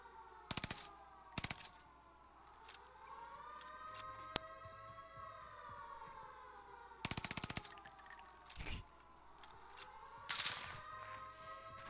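Gunfire in a Warzone Rebirth quads match: short bursts of automatic fire and single shots in clusters, close and sharp over a quiet, sustained wavering siren-like tone.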